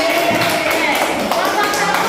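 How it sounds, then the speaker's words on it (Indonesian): A class claps hands together in a dense, steady patter that stays loud and close throughout, with voices mixed in. "Oke, tepuk tangan."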